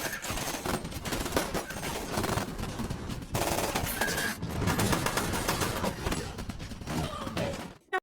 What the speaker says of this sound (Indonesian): Di sini adu tembak antara Miguel dan antek Gomez pun tak terhindarkan.